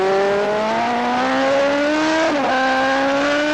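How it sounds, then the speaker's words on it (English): A high-revving superbike engine screams steadily close up on a race track, pitch climbing through the gears with a brief shift, loud and continuous throughout. "the sights and sounds of riding a superbike"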